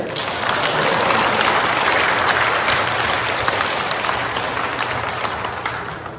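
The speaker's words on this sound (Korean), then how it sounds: "여러분 남편들이 박수 한번 쳐주세요." Sustained crowd applause, many hands clapping steadily at a loud, even level throughout, fading slightly at the end.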